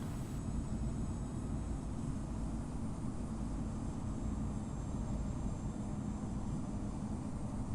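A Boeing 747-400 comes in to land in the flight simulator game Infinite Flight. The jet engines make a continuous, even roar with no breaks.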